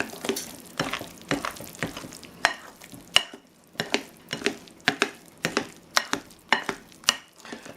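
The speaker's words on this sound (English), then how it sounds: "you're going to mix this just until it's moistened" Chocolate muffin batter mixed by hand in a bowl, a rhythmic series of wet scraping strokes, about two per second, close and moderately loud.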